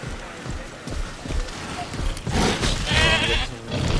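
Goats bleat amid a noisy dinosaur park video game scene, the animal calls mixed with thuds, footsteps and other game sounds throughout.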